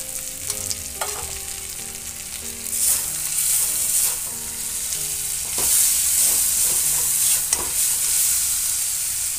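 Eggplant bharta with its cooked-down spices sizzles and spits loudly in the pan as water goes in, a steady bubbling hiss with brief clinks of a utensil and rising intensity partway through.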